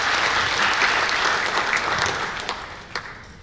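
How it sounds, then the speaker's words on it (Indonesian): Audience applause at an Indonesian seminar on the Biogreen Science system: dense, sustained clapping from a seated crowd, steady at first and then thinning and fading toward the end. "Tepuk tangan untuk Anda."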